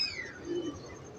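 Prized pigeons at a home pigeon show give a soft low coo, one short rounded call near the middle, over faint background chirps and room noise.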